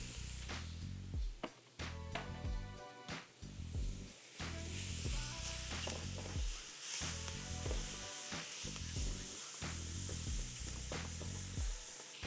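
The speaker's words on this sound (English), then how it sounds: "in goes the ground sirloin" Ground sirloin sizzles in a pan with onions and minced garlic, a steady close hiss of frying meat running throughout alongside intermittent tonal sounds.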